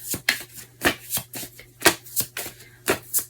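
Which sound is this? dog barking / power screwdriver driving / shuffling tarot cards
shuffling tarot cards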